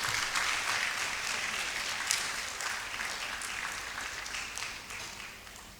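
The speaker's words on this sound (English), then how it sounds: "Oh, please, one more time, a round of applause to Ms. Matheson Susanna." Sustained applause from an audience at a university faculty fashion event, a dense even patter of many hands clapping that stays steady and gradually fades slightly over several seconds.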